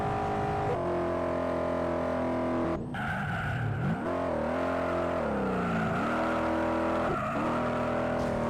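Car spinning out with skidding tires in the Juiced racing game: a steady engine drone shifts pitch, broken by a harsh burst of tire screech midway and another brief one near the end.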